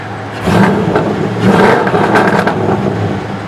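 An LS1 V8 engine revs up in a couple of quick blips, a loud, close, rough growl with crackle that rises and falls over a few seconds.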